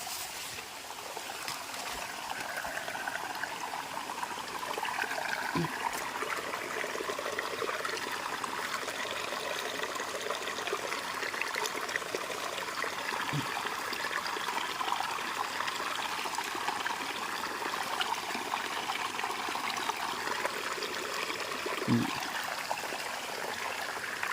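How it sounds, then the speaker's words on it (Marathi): Spring water pouring steadily into a public village well in Sakurde, a continuous close trickling and splashing rush with no pauses and no talking. "त्या विहिरीत पाणी इकडचे जे झरे आहेत ना ते इकडे येतात त्या विहिरीत"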